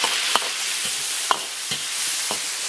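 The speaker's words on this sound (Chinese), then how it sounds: "炒香" Scallion, ginger, chili and Sichuan pepper stir-frying in a wok as aromatics before mutton goes in, giving a steady close sizzle with a few sharp spatula scrapes against the metal.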